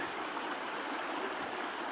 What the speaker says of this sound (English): But a brook by any name would be pleasant.